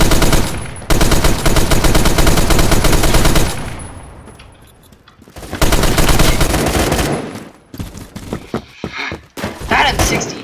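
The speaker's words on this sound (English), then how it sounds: "That M60 hit." M60 machine gun in Roblox Phantom Forces rattles off loud, rapid automatic bursts, a long stream, a pause, then another sustained burst and scattered shorter volleys.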